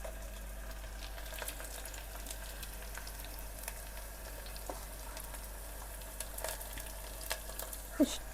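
Whole spices, cardamom and fennel seeds, sizzle softly in a pan, a faint, steady frying crackle with scattered small pops and no talk.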